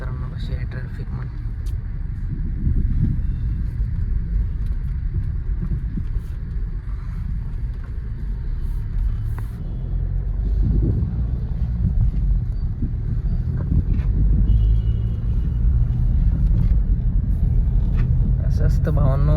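City traffic jam in Uran heard from inside a Scorpio, a constant loud low engine and road rumble with wind buffeting, someone talking over it.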